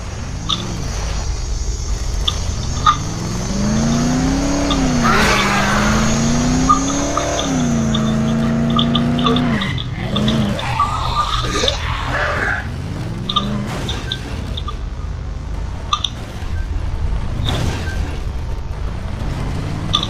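A car driven in the zombie game Dead Island, engine droning steadily with rising and falling pitch as it accelerates, with scraping and skidding noises breaking in toward the end; no voices.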